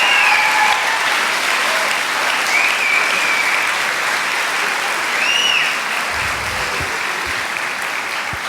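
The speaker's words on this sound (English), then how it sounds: "Can I have one more big round of applause for our class of" Loud, sustained applause from a crowd for a graduating class of 2029 at an eighth-grade moving-up ceremony, a thick wash of clapping with a few whistles cutting through near the start and midway.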